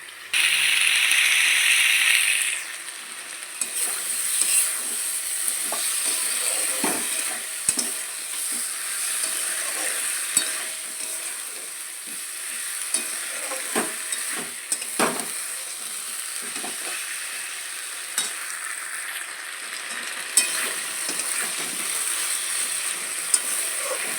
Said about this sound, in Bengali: এটাকে আমি কষতে দেবো একটু।